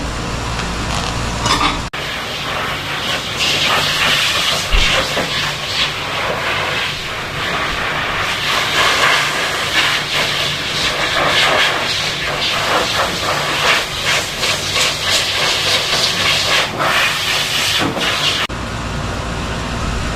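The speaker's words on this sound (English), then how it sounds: "I'm going to hook him up and finish blow drying him" A blow dryer roars steadily and loudly at close range while drying a shaved-down cocker spaniel during pet grooming, with a broad airy hiss that runs almost unbroken.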